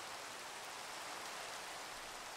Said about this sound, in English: I want the rain to be turned off.